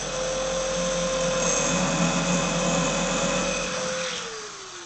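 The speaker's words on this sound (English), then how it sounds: "I'll try the drill" An electric drill bores a hole in wood for a homemade shoe rack, giving a loud, continuous close whine that holds for about four seconds before spinning down.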